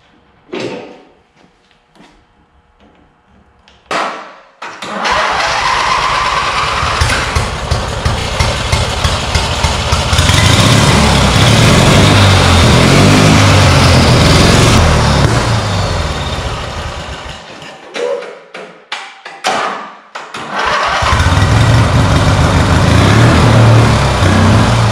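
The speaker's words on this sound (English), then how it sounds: "Boosted mower, the turbo mower, finally has boost and it starts right up." A homemade turbocharged lawn mower engine cranks, catches and runs, rising to a loud, rough, steady drone with fluctuating revs, cutting out near the end and restarting, with clunks between.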